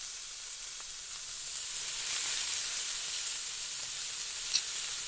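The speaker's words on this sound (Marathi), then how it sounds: "थोडस असं मध्यम गरम करून त्यामध्ये आपण ही भजी सोडून घेणार आहोत" Spinach and potato fritters (palak batata bhaji) frying in medium-hot oil, giving a steady, even sizzle and hiss that holds throughout with only a small pop near the end.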